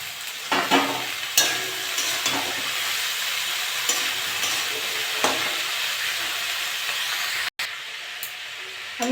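Kakrol and potatoes fry with prawns in a hot pan, a steady close sizzle and hiss running throughout, broken by occasional scrapes and stirring knocks and one brief dropout near the end.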